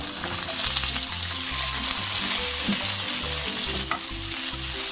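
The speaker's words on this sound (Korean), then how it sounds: "조금 예열된 프라이팬에다 기름을 두르고 올려보겠습니다." Octopus stir-frying over high heat in a preheated, oiled pan, with a constant loud sizzle and rhythmic scraping knocks of the utensil tossing the pieces, no speech.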